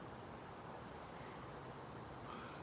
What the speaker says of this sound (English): There is a camel cricket, too.